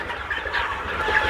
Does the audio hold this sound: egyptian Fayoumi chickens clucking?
yes